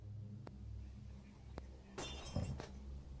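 Glass shatters somewhere away from the microphone, a short burst of breaking and tinkling fragments after a few faint clicks in an otherwise quiet indoor space.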